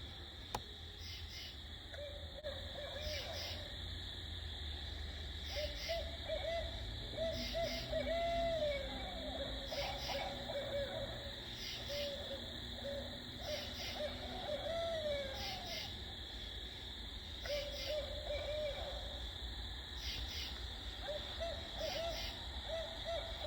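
Barred owl hooting calls played back outdoors in night woods, several rhythmic hoot phrases repeated across the stretch, moderately clear over a constant bed of crickets and insects.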